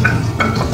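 Onion and garlic fry in hot oil for shrimp biryani, a brief close sizzle with stirring scrapes, loud and alone.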